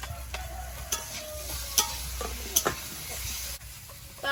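Raw banana and potato pieces fry in a pan in a village kitchen while being stirred. The sizzle is quiet, and sharp scrapes and clinks of the spatula cut through it.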